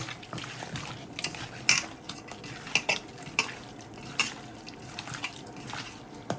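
Mutton is mixed by hand with ginger garlic paste in a metal pot while cooking mutton pulav, giving close, irregular clinks, scrapes and wet squelches at a quiet level with no talk.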